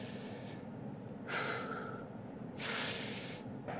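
Two sharp, breathy exhalations during a weight press, each a loud airy hiss lasting about a second and heard close, with quieter breathing in between.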